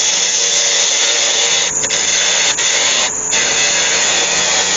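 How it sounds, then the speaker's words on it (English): A parting off tool cuts into a spinning beech bowl on a wood lathe, a steady close, bright hissing scrape with a few brief dips as the cut pauses. "Let's just part that off."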